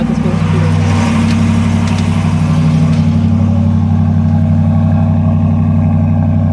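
A Roka Inos motorhome engine revs in a short burst, then holds a loud, steady, close-up drone with a strong low rumble and no talk over it.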